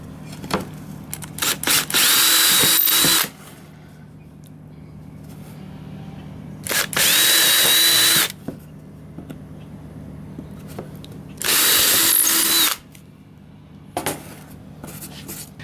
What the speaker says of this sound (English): Next, let's just drill a couple holes and see how this works out.